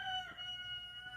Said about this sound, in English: And the rooster agrees.